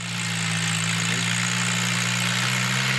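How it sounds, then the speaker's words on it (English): A tiller engine runs steadily while churning up soil for a whitetail deer food plot, a loud, even mechanical drone with a strong low hum and rattling vibration, close by and unbroken. "And it's tilling this soil up."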